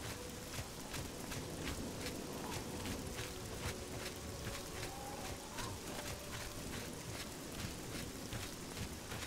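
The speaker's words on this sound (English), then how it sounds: "It is a bit of a walk in the rain" Steady rain hisses throughout in the video game Oblivion, with evenly spaced footsteps crunching along underneath at a walking pace.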